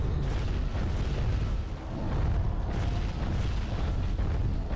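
Defensive turrets in the video game Giants: Citizen Kabuto blast away continuously, making a dense, loud rumble of booming explosions with no pause and no talk over it.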